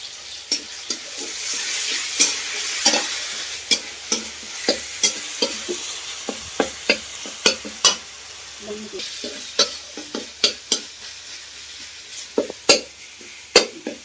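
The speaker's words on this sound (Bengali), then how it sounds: "এই মশলাটা কষিয়ে নিচ্ছি টমেটো কুচি দিয়ে ভালো করে কষিয়ে" Spice paste of green chili, dried chili and ginger sautéed with chopped tomato in a hot pan, steady sizzling broken by a long series of sharp spatula scrapes and taps against the pan; no talking.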